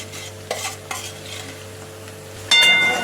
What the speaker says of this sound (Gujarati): એક ડુંગળી એમાં નાખી દઈશું. થોડું મિક્સ કરી લઈશું.